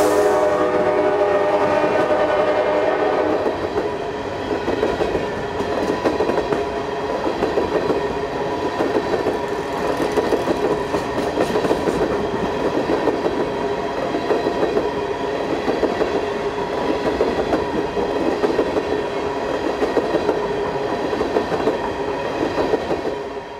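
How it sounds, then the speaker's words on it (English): An AK Steel SW1001 switcher locomotive, number 1217, slowly hauls coke wagons between city rail yards. A sustained horn blast opens the clip, followed by a steady rumble of rolling wagons with rhythmic wheel clatter. "SW1001, number 1217, which belongs to AK Steel, is seen making a leisurely journey between two of the city's main yards on a set of coke wagons."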